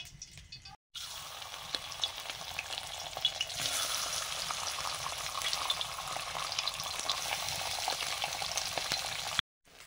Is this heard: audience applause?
no